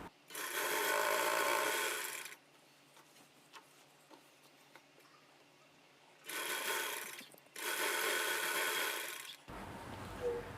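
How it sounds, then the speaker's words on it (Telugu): Sewing machine stitching the border of a long umbrella frock runs in three loud bursts, about two, one and two seconds long, with quiet gaps of fabric handling between them. "ఇక్కడి నుంచి ఇలా స్టార్ట్ చేసుకుని పై అంచుని స్టిచ్ చేసుకుంటూ వచ్చేయాలి"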